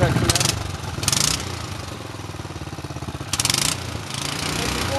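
A go-kart engine idles after a cold start on a snowy day, a steady low chugging pulse with a few louder, hissing bursts breaking over it, close and fairly loud.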